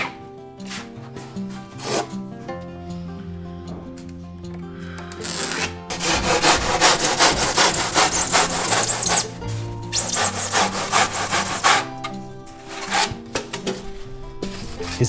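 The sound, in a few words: hand saw cutting wood along a slope ruler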